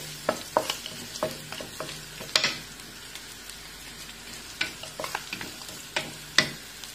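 Turmeric sizzles in hot oil in a pan for a salmon curry, with a soft crackle underneath repeated sharp scrapes and taps of a spoon being stirred through, close and uneven in rhythm.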